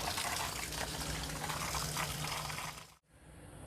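Water runs steadily through a portable RV water softener and hose, a constant hissing flow that cuts out abruptly near the end before a quieter flow resumes.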